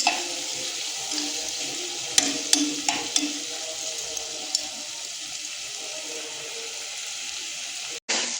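Spice paste with salt and turmeric sautés in a pan with a steady close sizzling hiss, broken by a few sharp clicks of a spoon against the pan.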